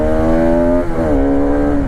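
An eight-year-old Bajaj Pulsar RS 200 BS3 motorcycle with a 200 cc engine drones loudly and steadily while being ridden, its pitch dipping briefly mid-way before settling again, with no talk.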